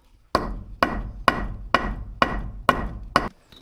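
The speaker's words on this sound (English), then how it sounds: "On the outer edge, I'll use the flat side of the hammer" A hammer strikes a gasket on a 1978 Ford 555 backhoe in seven evenly spaced, sharp, close knocks, each ringing briefly before the next.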